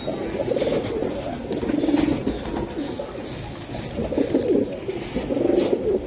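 Several pigeons of Giribaj and silver Giribaj breeds cooing nearby, repeated low rolling coos in bursts a second or so apart, with a quiet murmur of background noise.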